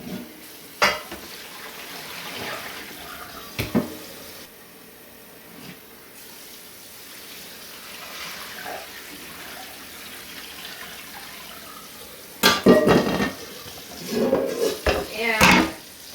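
Cold tap water pours into a bowl of cooked pasta to cool it for pasta salad, with clattering dish and utensil knocks over a steady running-water wash, louder bursts of splashing and handling near the end.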